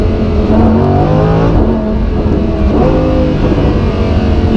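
A Lamborghini Huracan's V10 engine revs hard and loud, rising and falling through the gears as the car accelerates, with no talk over it.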